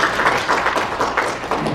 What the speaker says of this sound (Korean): 박수, 뜨거운 박수 부탁드리겠습니다.